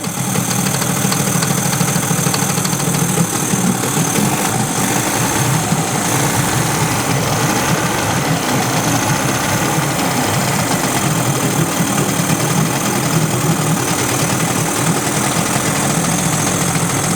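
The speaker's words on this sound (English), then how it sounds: "there's the little mystery motor." A 30 HP outboard motor with a freshly cleaned carburetor idles steadily and loudly, a constant buzzing, rumbling drone with slight knocking vibration throughout, no talking.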